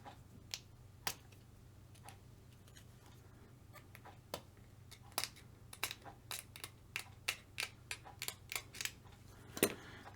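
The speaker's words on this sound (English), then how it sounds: "just trim the little tree bit off." Plastic parts of a Tamiya Frog RC kit being trimmed off the sprue, giving a series of sharp, close snips and clicks at irregular intervals over a quiet background hum.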